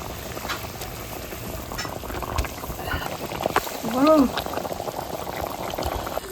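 Water added to a home cooking pan with capsicum and egg, bubbling and simmering in a continuous low boil, with a short tonal sound near the middle and a hint of background voice.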